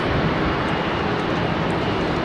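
A late United airliner departs Heathrow runway 27R, its jet engines a loud, steady broadband roar that fills the whole clip without a break.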